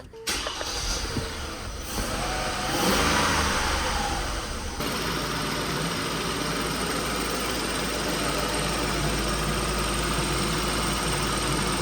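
A car engine turns over and catches, then settles into a steady, loud idle rumble that continues unchanged.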